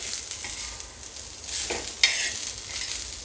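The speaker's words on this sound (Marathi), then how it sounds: "सगळ्यांना चांगल्याने आपण परतवून घेऊया" Patodi ingredients sauté in a spoonful of oil in a pan, giving a steady close sizzle broken by a few scraping stirs and one sharp knock, with no voices.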